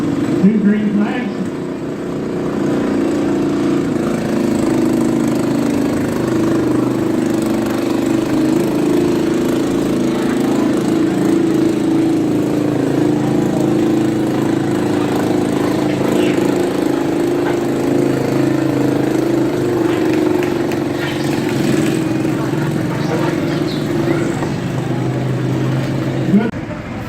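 A vintage tractor pulls a weight at an antique power show, its engine roaring in a steady, loud drone for the whole stretch. Voices talk over it at times.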